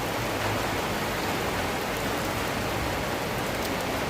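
Heavy rain falls on a rainy morning, a dense, constant hiss of drops on surfaces that stays loud and even throughout, with no voices.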